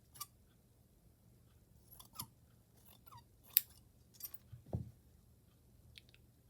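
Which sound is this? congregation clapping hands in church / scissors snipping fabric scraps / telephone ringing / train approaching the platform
scissors snipping fabric scraps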